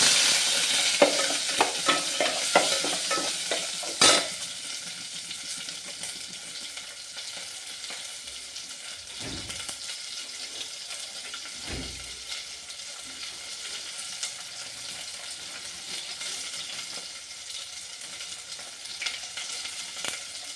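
Dried red chilli, small shallots and curry leaves sautéing in hot oil for hotel-style sambar, a steady sizzle with stirring scrapes, loudest at the start and then settling into a continuous even fry.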